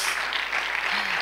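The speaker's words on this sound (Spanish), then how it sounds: "Sí, se aplaude." An audience at an anniversary event claps in a steady, dense wash of applause, fairly loud and continuous, with a faint voice briefly audible underneath.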